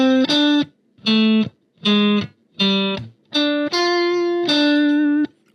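An electric guitar with a distorted tone plays a riff, a sequence of seven punchy sustained notes with short gaps between them, loud and close without any talking.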